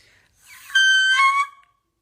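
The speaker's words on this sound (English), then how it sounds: "That's a whistle note, bro." One sung whistle note in the highest vocal register, a piercing, thin tone that rises in and holds for under a second before cutting off, alone and fairly loud.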